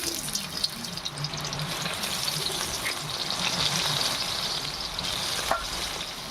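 Squeezed soya chunks go into hot oil in a home kitchen, giving a steady, close sizzle with a watery hiss throughout and no talking.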